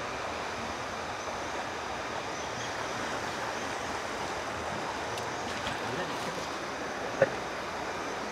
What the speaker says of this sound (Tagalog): Narinig lang dito yung huni ng ibon at yung lagasdas ng tubig.